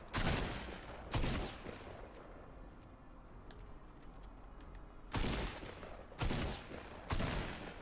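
Video game gunfire rings out in five sharp, loud bursts: two near the start, then three closely spaced ones toward the end. Quieter clicks and ambient game noise fill the gap between them.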